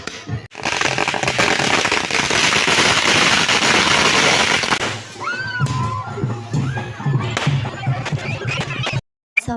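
Firecrackers burst at a village temple festival with the chariot procession: a dense, loud crackling volley for about five seconds, then scattered bangs and whistling rockets amid crowd noise and voices.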